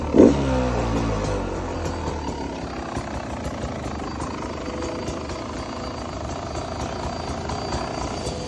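Beta 300RR dirt bike engine fitted to a trike build, running loud and close with a rough, steady rumble and a brief rev near the start, no talking over it.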